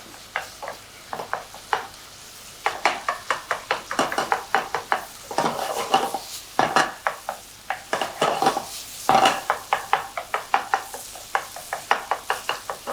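Minced meat for bolognese sauce in a hot pan, with a steady low sizzle under repeated sharp scraping and tapping as it is stirred and broken up, close and fairly loud.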